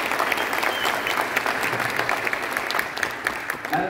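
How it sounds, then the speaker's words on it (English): Sustained audience applause for veterans at a jazz band Veterans Day concert, a dense, steady wash of many hands clapping, fairly close and loud, with no break across the whole stretch. "we really should give the veterans in the audience right now a round of applause for that"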